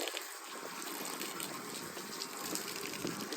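Water sprays and gushes steadily as it rinses dust off rooftop solar panels at home in the evening, a continuous broadband wash with no voices.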